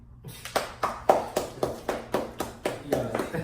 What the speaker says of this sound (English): You got snaps and applause.